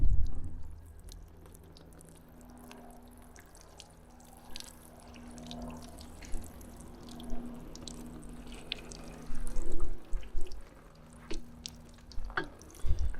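Water pours and drips from a watering bucket onto a ceramic-coated Cadillac Allante, a quiet, uneven trickle with scattered splashes and drips, close by and growing busier toward the end.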